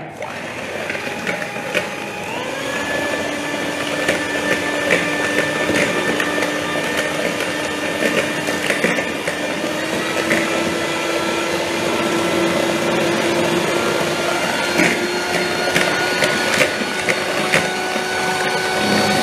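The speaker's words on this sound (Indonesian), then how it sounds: "Ini yang gula ini saya mixer ya sampai dia mengembang ya." Electric hand mixer whipping sugar until it turns fluffy during a live banana brownie baking demo, a steady continuous motor whir with a faint rising pitch that runs throughout, loud and close.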